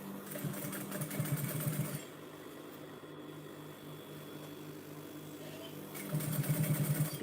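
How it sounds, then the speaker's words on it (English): A sewing machine stitches fabric for a drawstring gift box for chocolates. It runs in two close, fast, steady bursts at the start and end, with a quieter whirring pause in between. "careful not to sew anything that shouldn't be sewn together"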